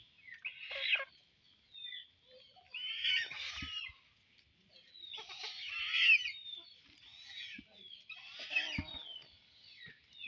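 Purple swamphens (kalim birds) kept on a farm give repeated loud, harsh calls in several bursts, close by, with no talking.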